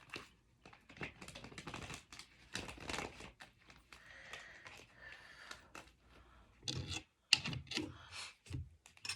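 Tarot cards are shuffled by hand in a run of quick papery riffles and taps, close and irregular, with brief pauses and a sharp snap near the end.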